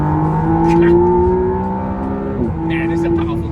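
A McLaren Artura supercar accelerates hard on a flat track, its engine note rising steadily in pitch before a brief dip and renewed climb, loud and close throughout with constant road noise underneath.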